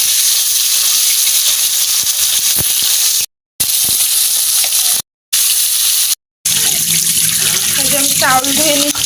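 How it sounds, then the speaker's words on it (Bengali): Rice washed under a running kitchen tap in a sink: a steady, close rushing hiss of water, broken by three brief pauses. A voice and clinking come in near the end. "চাউল ধুয়ে নিচ্ছি"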